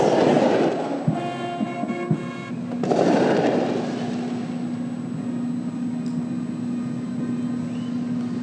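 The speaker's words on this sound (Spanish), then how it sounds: "por eso los juegos artificiales" Fireworks during a religious procession of the Señor de los Milagros de Nazarenas: a few sharp bangs early on, then a dense crackling roar over a steady tonal drone, heard from a distance without talk.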